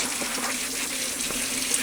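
Hot water runs steadily from a tap into a sink, a continuous close gush with a low resonant hum underneath and no speech.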